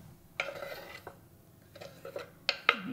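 Chopped onion is scraped off a board into a bowl for French grated carrot salad, giving a few quiet, sharp knife-and-board scrapes and light clinks spread over a hushed kitchen.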